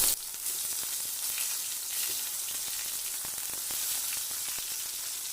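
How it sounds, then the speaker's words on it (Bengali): Eggplant fries in two tablespoons of refined oil, a steady, fairly quiet sizzle with frequent small crackling pops, heard up close and alone, with no talking. "এবার বেগুনটা ভেজে নেব।"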